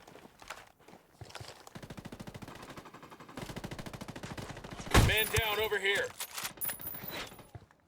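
Rapid automatic gunfire rattles in bursts during a Ghost Recon Wildlands raid on a hostile compound, building to a loud, sustained volley midway, with someone speaking over the shooting.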